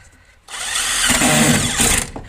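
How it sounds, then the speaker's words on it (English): A power drill drives a deck screw into a piece of wood, whirring up loudly and close for about a second and a half with a strained, grinding tone before stopping. "I got deck screws. So they're going into the piece of wood."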